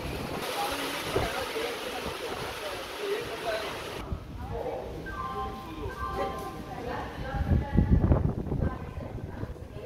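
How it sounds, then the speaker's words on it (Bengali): Heavy rain pours down at a railway station platform, a steady, loud, broadband hiss running throughout while people talk over it. "এখানে মুষলধারে বৃষ্টি শুরু হয়ে গেছে।"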